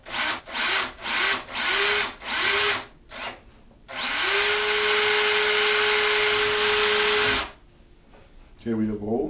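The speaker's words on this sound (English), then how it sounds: "So I have my mark, I'm going to drill through." A power drill bores through a wall while a surface-mount medicine cabinet is being installed, giving several short whining bursts before one long continuous drilling run of about three seconds, loud and close, with brief talk at the end.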